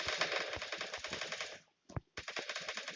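Automatic gunfire in the video game Free Fire sounds as rapid, close bursts of shots that break off for a short pause with a single shot and then resume.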